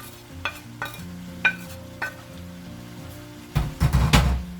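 Fried garlic and cashews being stirred into ghee rice with carrot, several distinct spoon scrapes and knocks against the pot over a low background, ending in a louder burst of rapid mixing, no voices.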